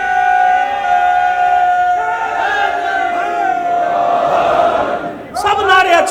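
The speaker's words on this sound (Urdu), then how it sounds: "نعرہ حیدری بھی لگاؤ" A crowd at a Shia majlis chants the Nara-e-Haidari slogan in unison, loud sustained massed voices that rise and hold, then break off briefly before a fresh burst of shouting.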